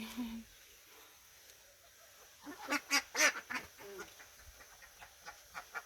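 Several old laying ducks quack and honk in a cluster of loud calls, followed by scattered quieter quacks against a faint background hum.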